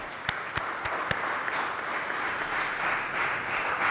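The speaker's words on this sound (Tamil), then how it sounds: "அனைவரும் அவருக்கு ஒரு பலத்த கைத்தட்டல் கொடுக்கலாம்." At a humour club meeting, an audience applauds in a steady, moderately loud wash of clapping, with a few sharper individual claps standing out early on.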